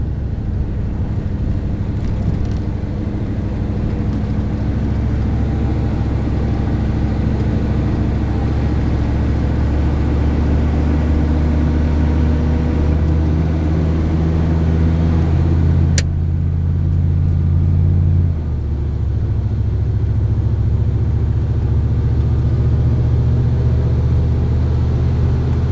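A GM 6.5 diesel truck with a turbo and an aftermarket turbo wheel drones loud and steady as it accelerates in overdrive. The engine tone holds an even rumble and shifts pitch a couple of times near the end, with no talking.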